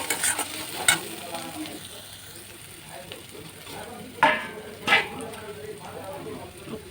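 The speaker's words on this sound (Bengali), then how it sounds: "দিয়ে এটাকে একসঙ্গে কষাতে হবে।" Spices with cumin powder stirred and sautéed in a pan for a Bengali fish dish, giving a soft steady sizzle with a few sharp scraping clinks of the spoon, while someone talks over it.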